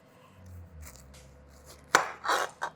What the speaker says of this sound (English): Slice the other end off as well.